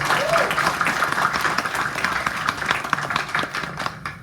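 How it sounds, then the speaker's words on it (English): Audience applause breaks out at a Bhagwat Katha gathering for a recording studio owner, a dense steady wash of clapping with some talk mixed in. "So please give him a round of applause."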